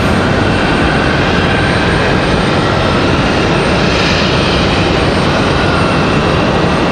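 Aeromexico Embraer E190 jet from Mexico City, its engines a dense, steady roar at close range with a faint whine, continuous and loud, with no voices.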